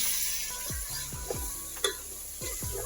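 Spice paste frying with fried onions for chicken masala gives a continuous close sizzle, with several rhythmic stirring scrapes and a couple of light utensil taps against the pan, no voice.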